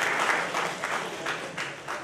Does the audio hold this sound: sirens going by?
no